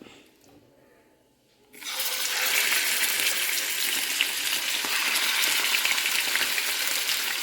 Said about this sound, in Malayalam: ഇനി നമുക്കിതൊന്ന് ഫ്രൈ ചെയ്ത് എടുക്കാം